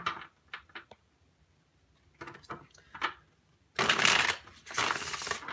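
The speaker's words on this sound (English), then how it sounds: "Let me just shuffle the cards 3 times." Tarot cards being shuffled in a few quick riffling bursts, short flutters early on, then two longer, louder riffles close by; no talking.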